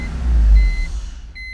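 A 2001 BMW 325 with a 2.5 liter engine cranks and catches, a short low rumble that swells and then fades, followed by a brief electronic beep.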